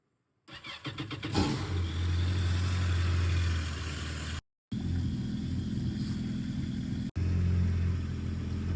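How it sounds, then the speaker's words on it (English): A Yamaha WaveRunner 1.8L engine, out of the water for an oil and filter change, cranks briefly, catches and settles into a loud, steady idle rumble, with two very short breaks in the sound. "Remember to start the engine before connecting the water supply."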